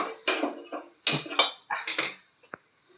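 A cooking pan set down on a stove while making upma for breakfast, a series of sharp metallic clanks and scrapes at close range, with one short ringing knock near the end and no talk.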